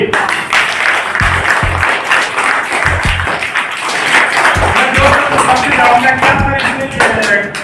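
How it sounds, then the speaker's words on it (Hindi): Listeners at a primary school gathering in Shuklan Ka Purwa, Babaganj, give a hearty round of clapping, scattered hand claps and a few dull thumps mixed with voices talking nearby. "एक जोरदार ताली"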